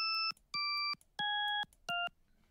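Four high synth notes from an instrument in the LMMS piano roll sound one after another, each a short bright beep-like tone with clear pitch, separated by brief gaps and stepping slightly lower across the run.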